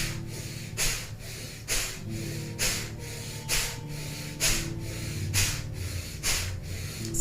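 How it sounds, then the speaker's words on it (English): Forceful rhythmic breathing during kundalini yoga shoulder shrugs, about seven strong nasal exhales at roughly one-second intervals, close and clear over a soft steady music bed. "inhaling the shoulders up, dropping them down on the exhale. So powerful breath,"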